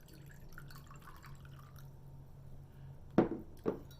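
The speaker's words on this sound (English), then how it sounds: "Then we're going to add our water." Water added to a cup with a few drops of red dye for dyeing eggs, heard as a couple of soft splashing pours near the end after a quiet hum.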